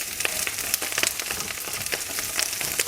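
Brussels sprouts fry in a few spoons of oil in a pan, a steady crackling sizzle with scattered sharp pops running throughout, close and fairly loud with no talking.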